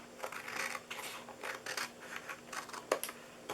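Scissors snip through paper or card while a DIY birthday cookie box is being made. Several short, crisp cuts sound close by and fairly quiet, with small rustles between them and no talking.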